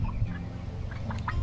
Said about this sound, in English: you can't get a friendlier chicken